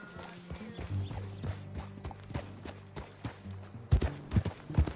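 Horse hooves clip-clopping while riding in Red Dead Redemption II, a rhythmic series of hoof thuds on the ground with a few louder impacts near the end, close and clear, no talk.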